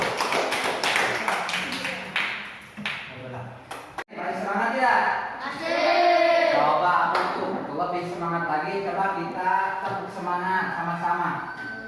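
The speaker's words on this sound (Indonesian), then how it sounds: "Nah, sudah. Tepuk tangan." Children in a classroom clap hands together in a quick rhythmic burst near the start, followed by a teacher and pupils speaking and chanting loudly.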